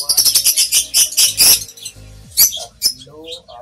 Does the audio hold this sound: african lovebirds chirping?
yes